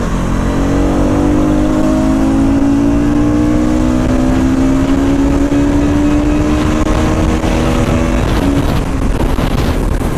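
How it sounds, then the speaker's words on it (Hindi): A 2024 Bajaj Pulsar NS200 motorcycle revs and accelerates hard, its engine note climbing steadily in pitch through the gears, loud and close with wind rush, and no one speaking. "यहाँ पे आप लोग देख सकते हो क्या ये बाइक रेफ हो रही है"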